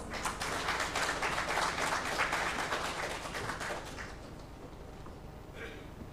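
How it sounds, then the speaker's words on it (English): Audience applause at an investors' awareness meeting in a hotel hall in Imphal, a dense burst of clapping that fades out over several seconds into the quiet of the room. "Let's welcome him with a big round of applause."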